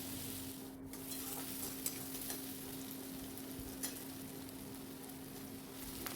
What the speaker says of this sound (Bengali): তো এখানে দেখো পেঁয়াজটা আমি ভেজে আবার ওর মধ্যে একটু টমেটো দিয়ে দিলাম।